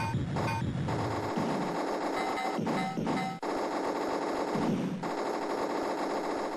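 Gunfire from the Amiga game Rollercoaster Rumbler shoots blocks off a speeding roller-coaster track. A steady electronic rattle of rapid shots runs throughout with a few sharper bursts, alone and loud.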